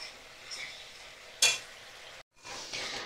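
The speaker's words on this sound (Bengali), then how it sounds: "দেখো মশলা ভালো করে কষানো হয়ে গেছে।" Spice paste with garam masala sizzles softly in a pan while a spoon stirs and scrapes, with one sharp clatter partway through. The sizzling is faint and close, broken by a brief silence.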